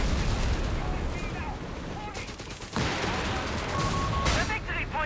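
Artillery shells and gunfire from the World War II strategy game Company of Heroes 3, a dense wash of shots and blasts with sharper impacts landing around the middle, steady and loud throughout, with voices under the battle noise.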